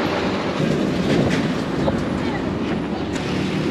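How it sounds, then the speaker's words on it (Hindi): A train runs along a railway line beside a road in Congo, heard from the roadside as a continuous heavy rumble with faint clickety-clack from the wheels, steady and fairly close throughout. "साथ में रेलवे लाइन चल रही है भाई कमाल है"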